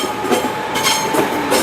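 Diesel train 143618 pulls away from platform 2 at Paignton, giving a steady broadband rumble with a faint whine and soft rhythmic rail clatter, fairly close.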